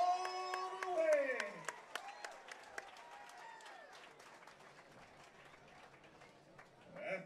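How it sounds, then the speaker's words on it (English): Crowd applause fills the venue after a three-round women's fight at Aries Fight Series 15, steady and spread out, with an announcer's amplified voice over it at the start. "Ladies and gentlemen, one more big round of applause for two amazing athletes that took it all the way."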